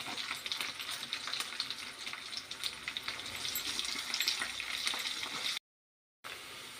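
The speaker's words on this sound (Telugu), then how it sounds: "సాబ్దానాలు పోపు అయిందండి." Soaked sago pearls with curry leaves, carrot and potato sizzle in a hot tempering pan for upma, a steady close crackling hiss that cuts out briefly near the end.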